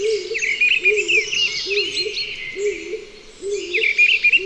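Birds sing close by in a beech forest in repeated, clear phrases, with a lower rhythmic call recurring beneath higher chirps and trills.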